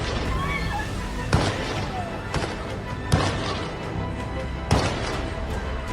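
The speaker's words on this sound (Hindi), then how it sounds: "लगातार गोलियों की आवाज सुनाई दे रही है।" Sharp gunshots ring out at Bondi Beach during an attack, sounding as several separate cracks spaced about a second or more apart over a continuous background of crowd noise, with a voice speaking throughout.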